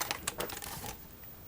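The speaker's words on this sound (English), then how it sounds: "let me unplug the keyboard and we can take a better look at the motherboard" A keyboard being unplugged from the small motherboard of a Microbyte HC120 computer gives a few quick plastic clicks and clatters up close, then settles into quiet handling noise.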